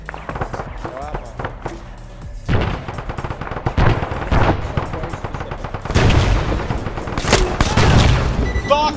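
Shotgun gunfire in a first-person shooter game, loud repeated blasts with heavy booms and volleys, mixed with other gunfire while voices talk over the action.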